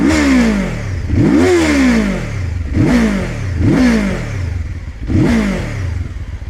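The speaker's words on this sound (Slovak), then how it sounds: "motor výrazne podštvorcový, hladný po otáčkach a s takým športovejším charakterom" A 2026 QJMOTOR SRT 450 RX motorcycle engine, a strongly oversquare sport single, revs up sharply five times in a row, each blip rising and falling quickly, loud and close with no talk over it.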